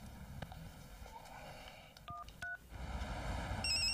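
A telephone number is dialed on a keypad, producing a run of distinct touch-tone beeps, some clustered closely and others spaced apart, in a quiet indoor room.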